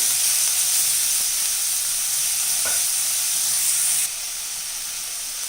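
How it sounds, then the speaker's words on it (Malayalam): Onions sizzling and frying in a pan for chicken perattu, a steady loud hiss with one brief scrape of stirring partway through, no voices. "ഇളക്കി മിക്സ് ചെയ്യാം. കുറച്ചും കൂടെ ഒന്ന് വാടി വരട്ടെ ഉള്ളി."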